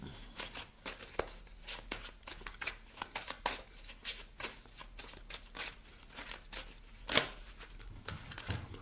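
Tarot cards are shuffled and drawn by hand in a quiet room, a run of quick papery riffles, slides and taps scattered irregularly over several seconds, with one sharper snap near the end and no talking.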